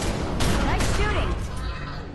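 Gunfire in The Secret World video game: a dense, continuous burst of shots and booms runs steadily for about two seconds and tapers slightly at the end, loud and close, with faint game voices mixed in.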